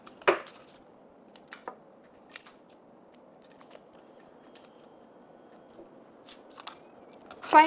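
Garlic being chopped by hand on a board, a sparse run of crisp, short clicks and cuts spaced irregularly, close and fairly quiet against a faint background hum, with a louder snip near the end.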